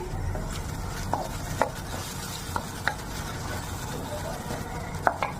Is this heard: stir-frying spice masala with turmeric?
yes